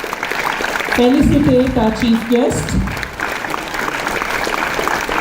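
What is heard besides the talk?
audience applause at conference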